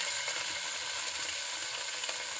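Small chicken pieces frying with chopped garlic in a pan give a steady, close sizzle that stays even and unbroken throughout.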